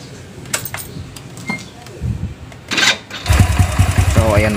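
A motorcycle engine starts after some light clinking and handling noises, then settles into a steady, close, rhythmic idle putter.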